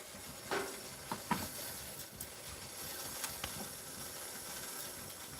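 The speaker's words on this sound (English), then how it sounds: "Now this is getting up to steam, up to pressure. You can hear the steam." A steady, faint hiss of steam from an electric pressure canner coming up to pressure runs throughout, with a few soft clicks and taps scattered over the top.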